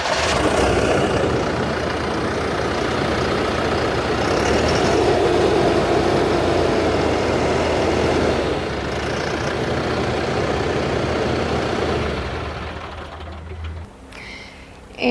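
A Basak 5115 tractor engine idles and rumbles steadily at close range while its front loader arm lifts beneath the drone, with a faint bird call in the background.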